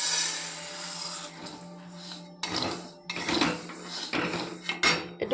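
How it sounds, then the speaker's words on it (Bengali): Dry sago pearls being stirred in a hot wok make bursts of gritty scraping and rattling against the metal, in uneven strokes over a steady low hum, close by. "যে সাবুদানাটা আমি নিয়েছি এই কড়াইয়ে আমি একটুখানি নেড়ে নেব।"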